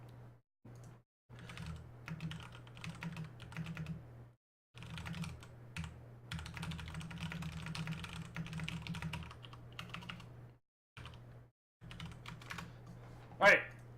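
Bursts of rapid typing on a computer keyboard, close and fairly quiet, running in clustered stretches with brief pauses, ending in a sharper louder clack.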